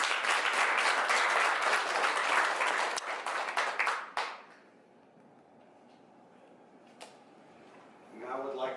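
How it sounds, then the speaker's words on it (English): Applause from the audience at a shopping mall launch event in Las Vegas, dense and loud for about four seconds, then cutting off into quiet room tone with a brief knock and a voice starting at the end. "a round of applause for everybody that came"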